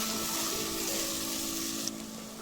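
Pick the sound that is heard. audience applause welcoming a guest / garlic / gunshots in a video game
garlic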